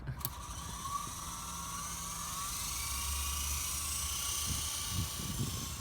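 Small toy helicopter flying nearby with a steady high-pitched whirring buzz of its rotor and motor, holding a constant tone throughout, with a few low knocks and bumps near the end.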